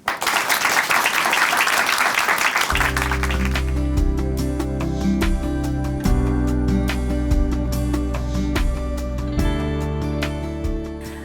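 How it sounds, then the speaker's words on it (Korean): Applause welcomes a speaker at a church broadcast, a burst of clapping at the start that gives way to sustained music with piano-like tones. "큰 박수로 모십니다."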